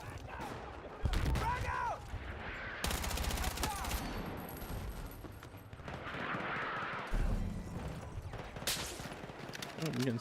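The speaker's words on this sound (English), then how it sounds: "Oh, I'm getting sniped at." Gunfire in a shooter video game cracks out in sharp, loud bursts and scattered single shots, mixed with rumbling and game effects, while a person talks throughout.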